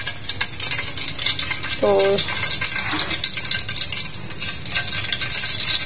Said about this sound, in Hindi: सबसे पहले प्याज को थोड़ा हम लोग अच्छी तरीके से फ्राई कर लेंगे